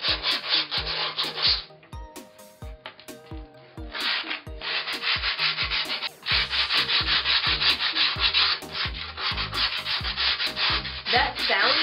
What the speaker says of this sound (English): so you take this and you sand down the edges like that.